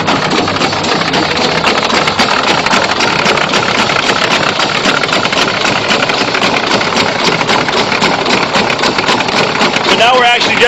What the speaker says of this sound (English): the majority of the noise that you're hearing is ball chatter